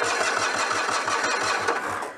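Citroën 2CV engine cranking with light choke, the starter turning over in a steady rapid pulsing rhythm for the full stretch without catching, close and loud.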